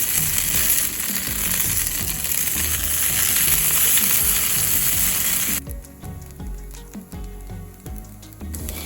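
Tofu sizzles and fries loudly in a hot pan, a dense steady crackle that drops abruptly to a quieter, sparser sizzle partway through as the pieces are flipped, with no talking.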